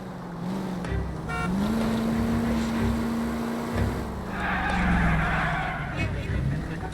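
In L.A. Noire, a car engine drones with a steady rising tone, its tires hissing over the road as a voice talks over it.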